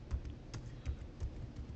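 Keys on a computer keyboard tap in a quiet, uneven run of soft clicks, close and faint, with no talking.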